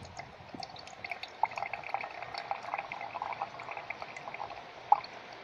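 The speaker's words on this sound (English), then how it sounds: "Now we pour the coconut milk, or juice actually," Coconut juice poured from a punched coconut into a cup in a kitchen, a soft steady trickle with faint splashing and a couple of small drips, fairly quiet and close.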